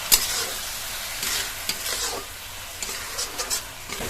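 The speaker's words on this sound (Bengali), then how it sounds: "এই মশলাটা 2 মিনিট কষিয়ে নিয়েছি।" A spice paste for a Bengali rohu fish curry is stirred and sautéed in a pan, giving a close, continuous sizzle broken by several sharp scraping strokes of the spoon against the pan.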